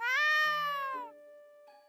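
A cat in Café Stella and the Reapers' Butterflies gives one loud, drawn-out meow that slides down in pitch, then trails into a quieter steady tone.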